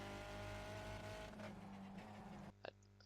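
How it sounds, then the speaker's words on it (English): A Skip Barber race car engine drones high and loud at the Nürburgring Nordschleife, its pitch shifting as it revs out, then cuts off abruptly, leaving a couple of faint clicks. "if you listen to the car, I brake as it starts revving out"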